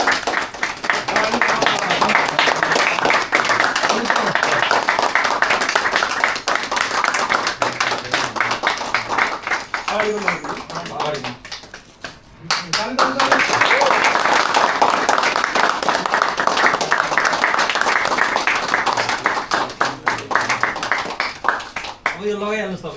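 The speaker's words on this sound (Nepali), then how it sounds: "ल है ताली बजाऊ ल।" An audience at a DPL Season 2 league event claps in a sustained, dense burst of applause that briefly thins out around the midpoint, then swells again, with voices mixed through the crowd.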